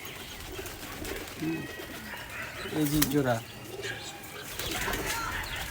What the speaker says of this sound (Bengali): ওই কবুতরটার এই জোড়া বাচ্চা